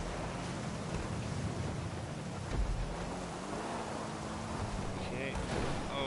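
Steady rain in the video game GTA 5 during an online car race: a constant broadband hiss throughout, mixed with engine noise, while people talk over it.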